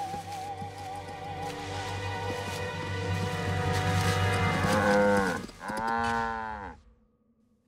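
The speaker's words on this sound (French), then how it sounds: "Cody, tu diras à Monsieur Bufkin qu'on a retrouvé ses vaches" Cattle lowing in a cartoon farm scene, several long moos stacked over a music bed, loud and near, with one final falling moo before the sound drops away.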